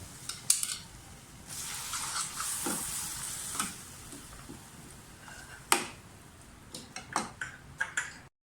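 Finely minced keema frying in a pan, a soft steady sizzle with occasional clinks and scrapes of a utensil stirring against the metal, growing busier toward the end.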